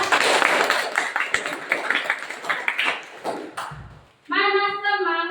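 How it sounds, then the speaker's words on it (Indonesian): A primary-school class claps hands together in a classroom, a rapid burst of many overlapping claps that fills the room, ending in a short pause before a sustained sung or chanted tone. "Ayo coba tepuk tangan."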